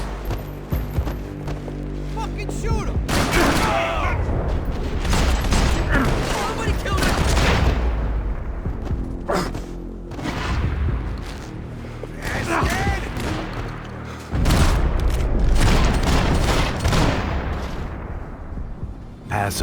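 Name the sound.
gunfire in video game Max Payne 3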